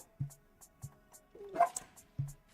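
A dog barks in short, sharp bursts, three or four separate barks spread across a couple of seconds, moderately close, with faint talk in between.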